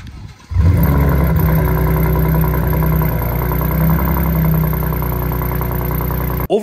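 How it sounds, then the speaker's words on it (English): A 2023 Ford F-150 Raptor with an active valve exhaust revs up loudly and holds a deep, rumbling exhaust drone for several seconds, then cuts off abruptly near the end. "That's an active valve exhaust system, and in terms of how this bad boy sounds"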